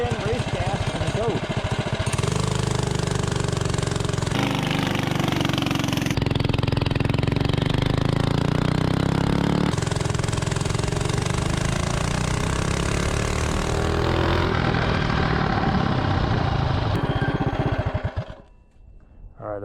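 A mini bike engine running on VP 110 race gas revs hard and loud from a standstill, its pitch sweeping upward steadily as it accelerates toward 30 mph, then cutting off abruptly near the end.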